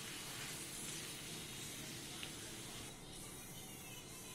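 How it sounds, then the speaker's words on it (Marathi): Hot oil tempering of mustard seeds, cumin and green chili tipped into a cucumber-tomato salad, a steady close hiss and spray sizzle that holds for several seconds and eases slightly near the end. "ही फोडणी आपण कोशिंबीरमध्ये टाकून घेऊया."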